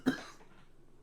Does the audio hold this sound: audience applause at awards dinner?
no